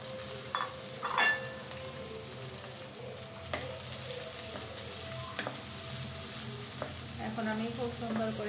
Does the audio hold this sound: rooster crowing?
no